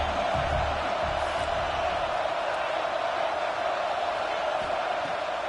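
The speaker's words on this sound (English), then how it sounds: "Listen to this crowd just shaking the girders of this place, trying to help their defense." Video game stadium crowd roaring in a continuous broad wash of cheering during a football game, steady and fairly loud throughout.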